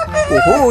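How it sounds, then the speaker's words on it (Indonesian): A toy rooster tucked inside a colourful egg lets out a short electronic crowing call, loud and close, with a voice exclaiming at the very start. "ternyata di sini ada ayam berkokok"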